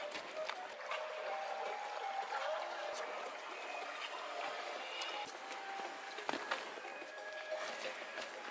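A small creek flows in a steady outdoor babble and trickle, close and continuous, with a few faint sharp knocks and rustles over the water.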